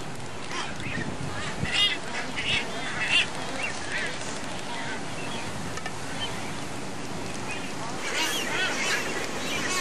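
A noisy Nazca booby colony with many overlapping honking and whistling calls, steady background wash of wind or surf throughout.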